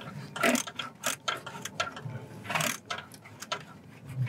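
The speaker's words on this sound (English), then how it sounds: "just a quarter drive with my 7mm, 1-inch extension. I'm just loosening the hose clamp onto the basically turbo inlet" A quarter-inch drive ratchet with a 7mm socket and short extension loosens a hose clamp at the turbo inlet of a Mercedes-Benz C250/SLK250, giving close, repeated rapid clicking bursts in an uneven rhythm with no speech.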